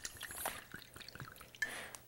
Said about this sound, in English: we're going to add some Mount Gay Extra Old Rum